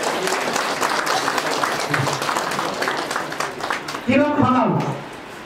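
An audience claps steadily at a large DXN company event in Khandbari, dense applause filling the space while a voice speaks near the end.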